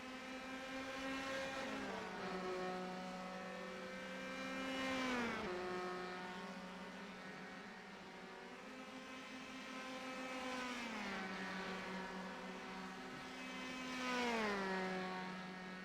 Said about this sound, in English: We definitely still have some cars going around here.